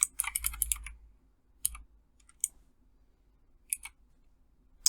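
Short bursts of keystrokes on a computer keyboard as a user's distinguished name is entered, a quick cluster of clicks followed by scattered single taps with pauses between, close and fairly quiet.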